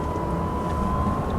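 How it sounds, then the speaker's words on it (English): A high-current electrical connector in a moving Tesla Model S gives off a steady, thin tonal whine that holds constant over a low rumble of road and cabin noise. "a connector that has a lot of current going through it, and there's enough electricity in it where it vibrates just at the right frequency where it's audible"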